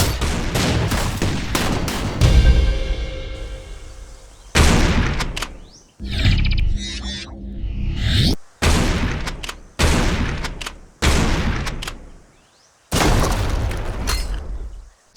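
Shotgun blasts in the video game Serious Sam 4: a string of loud, booming shots fired in bursts with short gaps, each followed by a roaring decay and mechanical reload clatter, with no voices.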